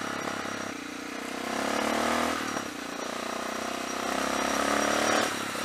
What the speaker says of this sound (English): that's why we ride a supermoto